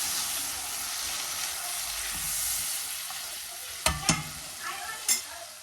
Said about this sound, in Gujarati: થોડી વાર આને સાતળવા દેવાના કેપ્સિકમને અને પછી અંદર નાખી દઈશ ટામેટા